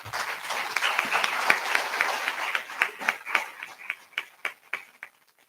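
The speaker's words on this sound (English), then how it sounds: "we want to start this session with an applause to all of you in this room" A room full of midwives at a celebration bursts into sustained applause that gradually thins into scattered, distinct claps before fading out.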